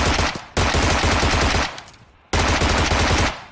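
Sustained automatic gunfire in a battle royale video game, two long loud bursts separated by a short pause, with rapid rhythmic shots close up and no talk.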